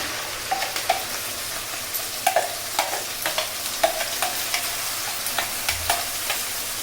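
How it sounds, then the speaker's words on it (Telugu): Masala paste frying with browned onions for a rope fish curry sizzles steadily in the pan, while a spoon scrapes and stirs in a quick, regular rhythm close by. "కాస్త ఆనియన్స్ బ్రౌన్ అయ్యాయి అనుకోండి, ఈ పేస్ట్ దీంట్లోకి యాడ్ చేసేసి"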